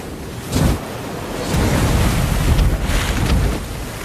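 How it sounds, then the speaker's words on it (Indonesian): Big ocean waves crash and surge around a small raft paddling out from an island shore, with loud, continuous surf and wind and heavier breaking swells after the first couple of seconds. "Dia harus melewati ombak-ombak yang begitu besar di depannya."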